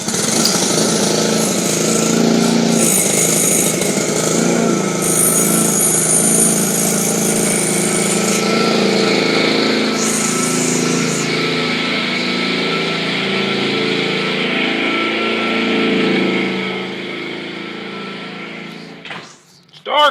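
A lawn mower engine, recently given a carburetor repair, runs loud and steady close by with a buzzing drone, then cuts off near the end.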